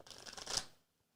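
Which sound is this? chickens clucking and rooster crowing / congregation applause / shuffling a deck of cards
shuffling a deck of cards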